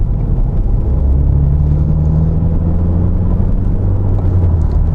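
Audi A8 D2 with a chipped engine driving, a loud steady low rumble and drone from inside the cabin, continuous and close with no talking.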